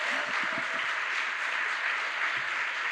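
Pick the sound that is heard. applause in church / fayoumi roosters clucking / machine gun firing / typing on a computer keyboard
applause in church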